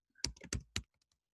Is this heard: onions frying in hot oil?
no